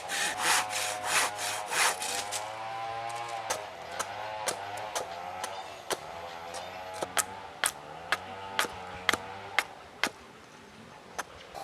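A knife carves a soft branch of paper tree wood, making a run of scraping strokes that give way to sharp, evenly spaced cuts, close and clear with no talk.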